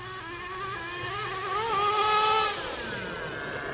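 A Kyosho USA-1 Nitro V2 RC truck with a nitro engine revs hard, its buzzing whine rising in pitch and loudness to a peak, then easing back to a steady high idle.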